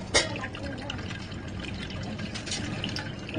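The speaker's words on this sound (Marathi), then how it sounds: "आपली शिजलेली डाळ पुरणाच्या चाळणीने गाळून घ्यायची" Cooked dal being strained through a puran sieve for a Holi meal: a steady close-up wash of trickling and splashing liquid as it drains through the mesh, with a brief knock near the start.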